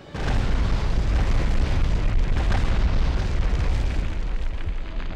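A sustained, loud blast and rumble from sabotaging the Rjukan hydro plant in the Medal of Honor video game, a dense roaring boom that holds steady for several seconds with no talk over it.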